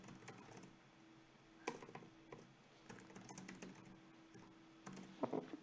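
Soft tapping on a computer keyboard while an email is typed, irregular bursts of keystrokes with short pauses and a few louder clicks near the end, faint and close with no talking.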